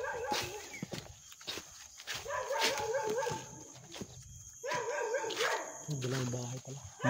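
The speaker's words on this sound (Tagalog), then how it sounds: "ingat kayo, may aso tol." A dog barks repeatedly in short bursts while people talk nearby, with footsteps and outdoor noise underneath.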